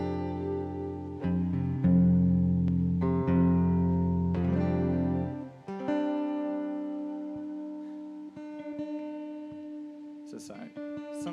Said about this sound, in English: sometimes you have to retune the guitar